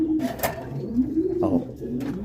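Pigeons kept for meat coo close by, several low throaty rolling calls rising and falling in a steady rhythm, fairly loud and clear.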